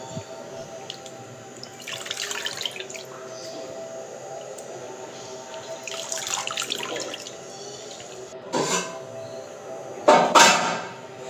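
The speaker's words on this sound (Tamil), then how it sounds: "கொஞ்சம் மஞ்சள் போட்டு அந்த குடல் அவ்வளோத்தையும் ஒரு தண்ணி ஊற்றி ஒரு 4-5 வாஷ் பண்ணி வச்சுக்கோங்க" Mutton intestines are washed in water with turmeric in a kitchen vessel. Soft sloshing and splashing come in separate bursts every few seconds, close and moderately quiet, with no talking.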